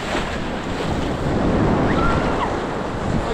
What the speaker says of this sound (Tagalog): Ang problema ay malakas nga yung alon.